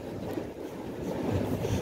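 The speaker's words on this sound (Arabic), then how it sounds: "هذه الحاله البحريه، رياح شماليه" Northerly wind at sea on a fishing outing, a steady low rumble buffeting the microphone with a faint wash of water underneath, and no voices.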